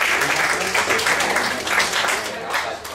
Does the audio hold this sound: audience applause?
yes